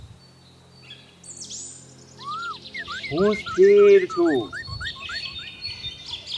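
Several birds chirp and call in a natural outdoor setting, with bright rising whistles and rapid repeated notes growing louder midway, while a person speaks softly at the start.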